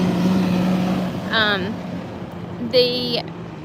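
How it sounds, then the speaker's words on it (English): A passing bus's engine rumbles steadily nearby, with brief tonal squeals rising over the drone; no clear talking. "I'm sorry for the bus noise"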